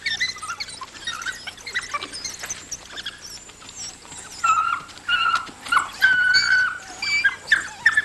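An African wild dog pup in the Okavango gives thin, high whimpers and squeaks amid pattering movement, scattered at first and then coming in closer, louder bursts.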